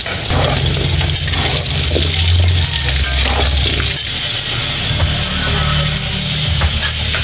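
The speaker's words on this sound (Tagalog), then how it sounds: "Piprito na rin po natin yung carrot." Steady sizzling and crackling of carrots frying in hot oil, continuous and close, with faint kitchen clatter underneath.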